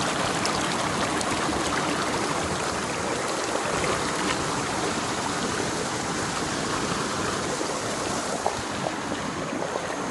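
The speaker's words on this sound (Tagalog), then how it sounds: "So ayan yung ilog dito guys." A river flows outdoors, a broad continuous rushing wash of water that holds steady and fairly loud throughout, with no voices.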